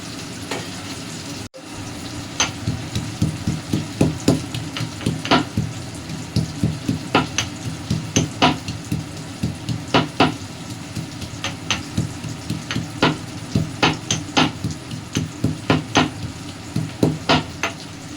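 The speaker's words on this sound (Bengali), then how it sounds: "রসুনটা আমরা এই শিলপাটাতে বেটে দেব না, কিন্তু থেঁতো করে দেব। আর আদাটা আমরা বেটেই দেব।" Ginger ground and garlic crushed on a stone slab (shil-pata) while cooking a catla fish head with taro greens: steady, rhythmic scraping and knocking strokes repeat about twice a second, close and fairly loud, with no talking.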